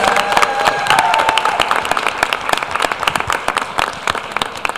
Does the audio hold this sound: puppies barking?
no